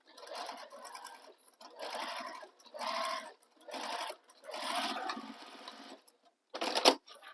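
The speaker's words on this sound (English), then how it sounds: "we're going to sew from the wrong side, just as we did in the previous step, so we can see where we're stitching" A sewing machine stitches a seam on a sling bag from the wrong side in several short bursts of whirring with brief gaps between them, ending with a sharp click.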